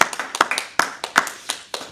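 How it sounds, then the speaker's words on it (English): A small group gives a quick round of applause for the SCDC at a high school event, with scattered, uneven claps that sound close and moderately loud, no talk over them. "Let's just get a round of applause real quick for the SCDC"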